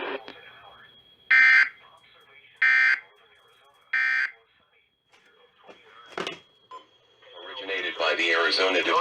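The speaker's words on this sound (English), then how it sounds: "If this had been an actual emergency, important information or instructions would have followed the tones you just heard." Three loud, even EAS attention bursts from a NOAA weather radio test for Maricopa and northwest Pinal counties, Arizona, each lasting about half a second, followed by a broadcast voice announcer speaking over faint static.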